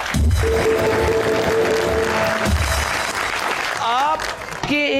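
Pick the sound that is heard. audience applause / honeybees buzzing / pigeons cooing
audience applause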